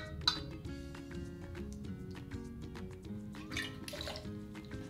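Gin poured over ice into a cocktail shaker tin gives soft, close trickling and dripping liquid sounds, with faint clinks of ice against the metal in a quiet room.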